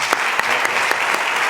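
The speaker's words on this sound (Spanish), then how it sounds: "pido para él un fuerte aplauso" Steady applause from an audience at an architecture lecture in Almansa, a dense even wash of clapping that fills the whole moment with no voices over it.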